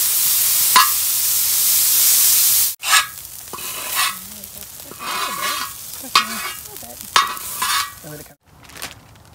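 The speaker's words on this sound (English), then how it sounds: "Watch this sizzle." Bacon sizzles and crackles as it fries in hot bacon grease, a steady hiss with sharp pops and spatters, close by; a loud burst of hiss opens the clip.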